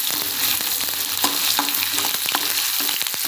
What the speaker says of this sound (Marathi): लसूण हे चांगले लाल होईपर्यंत भाजून घेऊया.